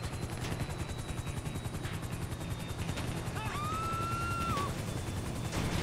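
A helicopter in GTA 5 Online drones steadily with a rapid rotor chop throughout, with a brief rising electronic tone partway through and no talking.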